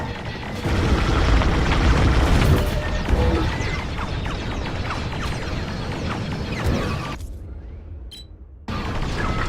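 In the Star Wars: Squadrons space-combat game, a loud booming explosion hits amid dense crashing battle effects and engine roar, fading with a brief cutout near the end.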